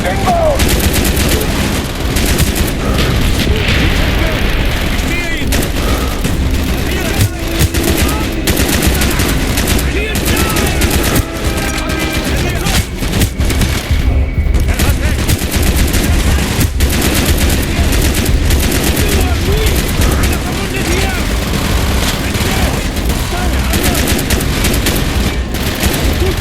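Mortar blasts and sustained automatic gunfire in the Call of Duty: Black Ops mission Project Nova, a dense, loud, unbroken barrage of rapid shots and booms throughout, with shouted soldier voices buried in the din.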